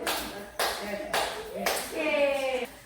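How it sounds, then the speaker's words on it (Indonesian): A classroom group claps for the second group's presentation, a short burst of hand claps mixed with speech and children's voices, moderately loud and close. "tepuk tangan untuk kelompok 2"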